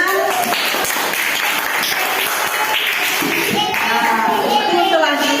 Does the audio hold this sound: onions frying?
no